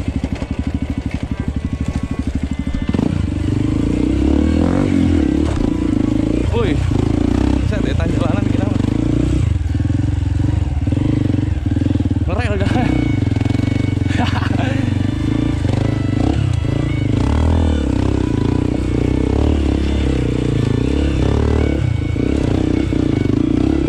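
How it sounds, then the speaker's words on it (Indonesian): Motorcycle carrying a passenger over a rough new off-road trail, its engine droning steadily up close with clattering and scraping bumps throughout, while people talk over it. "Nih kita boncengin, nyobain motor Pak Sipa dulu."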